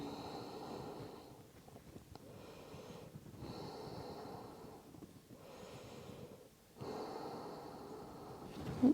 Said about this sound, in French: respire dans l'étirement